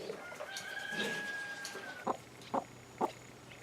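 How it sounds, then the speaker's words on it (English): A broody hen clucks on a farm, first with faint bird chatter and a thin whistle-like tone, then three short, distinct clucks spaced about half a second apart, close and clear. "There's that clucky, broody hen."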